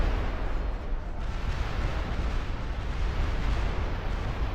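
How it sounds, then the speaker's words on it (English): Skaven ratling guns machine-gunning skeleton units in a fantasy strategy game, a dense, continuous roaring rattle of rapid fire and battle noise, loud and steady with no talk. "Here's the rattling guns. Oh ho ho, I have a machine gun."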